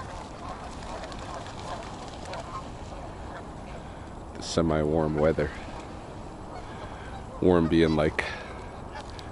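Geese by a partly open winter river give two loud, close bursts of honking a few seconds apart over faint outdoor noise, while a person talks calmly underneath.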